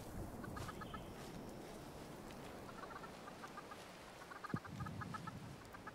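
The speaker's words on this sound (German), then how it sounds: "Das ist ein Huhn." A mutated, featherless chicken in the video game Fallout 76 clucks in soft repeated bursts, a series of quiet, high, pulsing clucks recurring over a faint ambient game background.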